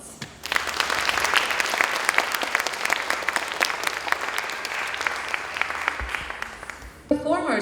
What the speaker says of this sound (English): Please give these individuals a sign of your appreciation with applause